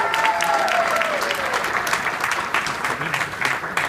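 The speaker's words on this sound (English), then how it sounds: "So just a round of applause for them." Audience applause at a fraternity formal, a crowd clapping steadily for about four seconds with a faint whistle or cheer near the start and some murmured voices underneath.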